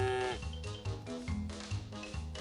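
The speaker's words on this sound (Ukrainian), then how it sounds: "Ой, корова!" A cow moos in the game Dog Sim, a low drawn-out call over looping background music and soft tones.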